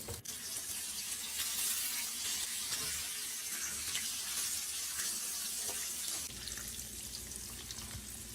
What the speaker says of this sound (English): There's some water being added to another pot or something.